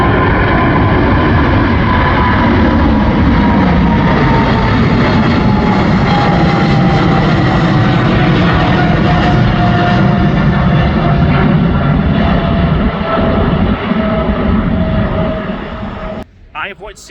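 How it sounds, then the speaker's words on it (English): A Boeing 777 jet taking off at Schiphol Airport roars loudly and continuously, its engine thunder holding steady with a slowly shifting whine before fading sharply at the end, with people talking over it. "That 777 is away."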